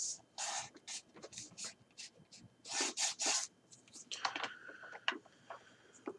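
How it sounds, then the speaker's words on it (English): Dry rubbing strokes of a bone folder or fingers burnishing the fold of a paper junk journal cover, in uneven bursts of close scraping with brief pauses, alongside some soft handling noise. "Burnish it."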